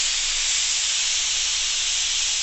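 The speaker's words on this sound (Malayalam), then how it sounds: "അങ്ങനെ നമ്മുടെ കുക്കർ 3 വിസിലും അടിച്ച്" A pressure cooker on a gas stove vents steam in a continuous, loud, close hiss that stays steady for the whole moment, with no other sounds.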